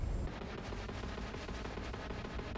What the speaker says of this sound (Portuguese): trocação de tiro.